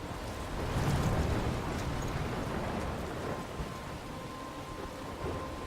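A steady thunderstorm in the video game Life Is Strange near a lighthouse: continuous heavy rain hiss with deep rolling thunder swelling early, loud and enveloping with no pauses.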